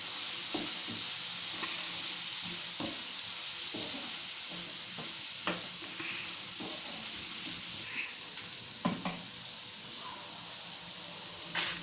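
Sliced onions with turmeric and a little salt sizzle steadily in a pan while a spoon scrapes and stirs them in irregular knocks, close and continuous with no talking.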